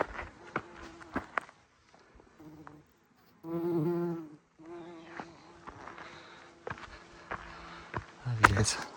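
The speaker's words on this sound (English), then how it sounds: "The bees are definitely loving it." Bees hum around blooming wildflowers along a trail in California, a soft intermittent buzz passing near and away, mixed with footsteps, rustling and a brief louder burst near the end.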